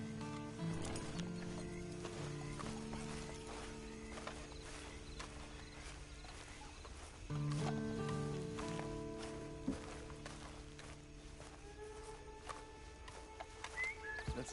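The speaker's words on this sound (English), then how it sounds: "And you better get on this horse." Horse hooves clip-clop at a steady walking pace in a PS4 video game, fairly quiet and close, with a brief snort or whinny and faint background game ambience.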